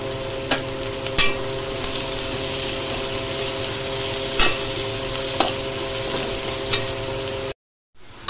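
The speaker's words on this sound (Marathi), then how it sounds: "लसूण आणि अद्रक थोडं फ्राय करून घेणार आहोत।" Garlic and ginger fry in hot oil for paneer masala, a steady close sizzle with a faint hum and occasional small clicks of a spoon against the pan, cutting off abruptly near the end.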